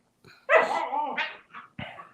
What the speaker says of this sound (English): Now, why are the dogs acting up now?